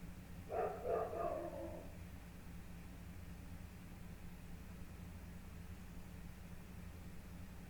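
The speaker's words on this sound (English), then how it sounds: "He's been like barking at like nothing all day long." A dog in Farming Simulator 19 gives a short burst of about three barks, faint and somewhat distant, over a steady mechanical drone that continues after the barking stops.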